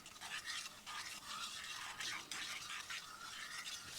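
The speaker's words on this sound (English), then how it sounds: "now we just stir this until it's boiling" A spoon stirring a candy sugar mixture in a pot as it comes to a boil, soft repeated scraping swirls, faint and close, with no voices.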